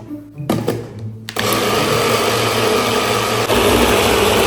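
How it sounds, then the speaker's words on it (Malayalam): A mixer grinder grinds cooled masala, starting with a few short bursts before settling into a steady, loud, continuous whir that stays close and unbroken to the end. "ഓക്കെ ഗൈസ്, ഇനി നമുക്കൊന്ന് അരച്ചെടുക്കാം ഈ മസാല"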